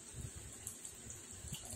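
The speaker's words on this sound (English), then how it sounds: "you have to be mindful of the amount of tea that you're pouring" Hot Long Jing green tea is poured during a Chinese gongfu tea ceremony, a steady, soft liquid trickle heard up close and fairly quietly, with no talking.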